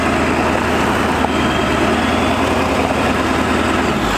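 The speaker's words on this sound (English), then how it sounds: "you can see that the rear tire will spin if I hit it" A Ford OBS Power Stroke diesel truck engine runs loud and close with a steady, dense rumble throughout while the rear tire spins; no voices.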